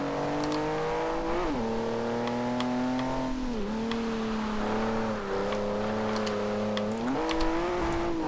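A 2015 Volvo S60 Polestar engine in the racing game Forza Horizon 2 drones steadily at mid revs, with pitch dips and rises as it shifts and changes throttle through corners, loud and continuous throughout.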